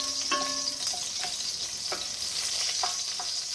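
Garlic fries in a pan with a steady, dense sizzle. A utensil scrapes and stirs now and then, and there is no talk.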